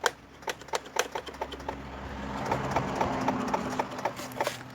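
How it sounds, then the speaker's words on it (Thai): A Honda Click scooter with a locked wheel and a starter motor that won't turn gives a rapid series of sharp, dry starter-relay clicks. The clicks come close and fairly loud, ticking in an uneven, typewriter-like rhythm, with no voices. "ไดดีเลย์สตาร์ทยังทำงานอยู่นะครับ แต่ไดไม่หมุนนะครับ"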